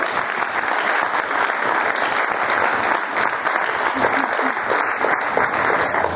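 A crowd at a sports club Christmas party in Schwäbisch Hall claps loudly and continuously, a thick, even wash of applause from many hands with no break throughout.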